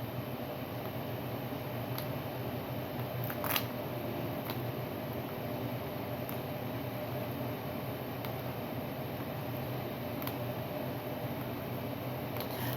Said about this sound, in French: on entend le bruit assourdissant de la clim